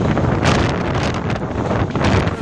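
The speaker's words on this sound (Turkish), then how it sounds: "Bir rüzgar oldu, lodos." Strong lodos wind in an Istanbul storm roars loudly and continuously, gusting hard against the microphone with a rushing, buffeting texture and no voices.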